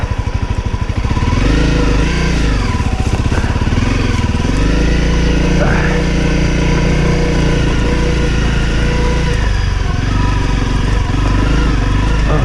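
A Honda CRF250L motorcycle engine on an off-road rocky trail, loud and close, revving and dropping with the throttle, its pitch rising and falling through the ride.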